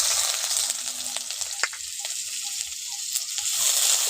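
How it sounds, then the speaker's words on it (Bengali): Chopped onions fry in hot oil with whole cumin for a vegetarian curry, a steady close hiss and sizzle with occasional light stirring clicks and no talking. "পেঁয়াজটাকে একটু ভেজে নিচ্ছি।"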